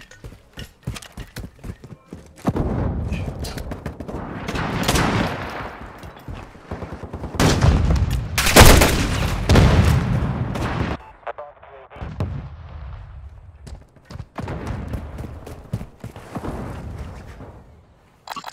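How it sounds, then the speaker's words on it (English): Grenade explosion and gunfire in an online multiplayer shooter match, with a loud sustained burst of blasts and rapid shots building to a peak, then lighter scattered fire, close and dense throughout. "Grenade out!"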